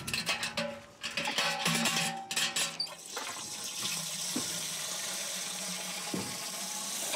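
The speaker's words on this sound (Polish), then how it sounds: "Walking up the tap for a turn of water" Water gushes from an outdoor tap at a travellers' caravan site, starting with irregular splashing and sloshing as a container fills, then settling into a steady, fairly close, continuous stream with no talking.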